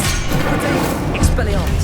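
An Incendio fire spell cast in Hogwarts Legacy on PS5 gives a dense, loud, roaring crackle that fills the whole moment, with a voice over it.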